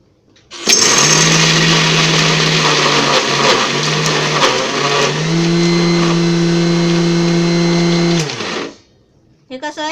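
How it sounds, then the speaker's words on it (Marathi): A kitchen mixer grinder whirs loudly and steadily while grinding peanut chutney with sugar and lemon juice, its motor pitch shifting partway through before it stops; no talk over the run. "हे मी आता तुम्हाला मिक्सरमध्ये वाटून दाखवते बारीक करून."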